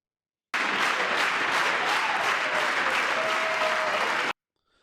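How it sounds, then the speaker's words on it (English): Sustained applause fills a session of Congress, dense and even clapping from a large audience lasting several seconds before cutting off abruptly. "The whole right side is applauding."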